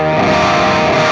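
An electric guitar plays through a Joyo distortion pedal into a preamp pedal, giving a loud, dense, sustained distorted tone that rings steadily for about a second.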